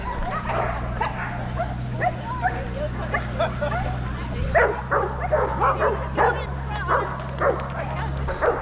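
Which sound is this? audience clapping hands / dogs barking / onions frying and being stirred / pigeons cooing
dogs barking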